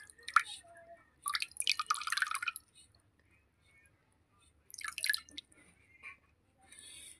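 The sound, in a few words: honey dripping while bathing deity idols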